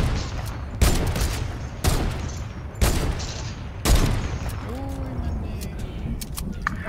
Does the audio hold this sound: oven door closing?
no